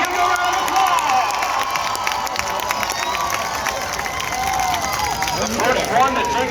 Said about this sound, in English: Lebanon Valley, give them a round of applause.